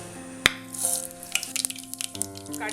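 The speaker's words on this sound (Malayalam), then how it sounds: "എണ്ണ ചൂടായി കഴിയുമ്പോഴത്തേക്കും 1 ടീസ്പൂൺ കടുക്" Mustard seeds pop and splutter in hot sesame oil in a pan, a quick scatter of sharp crackles over a faint steady hum.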